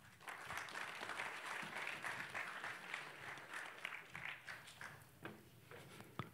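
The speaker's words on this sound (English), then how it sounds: "please give Roham a big round of applause" A crowd applauds steadily, dense clapping that fades toward the end with a few scattered claps left.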